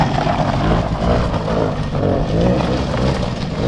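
A child's four-wheeler runs steadily nearby, its small engine holding a constant, fairly loud drone with slight wavering and no clear speech.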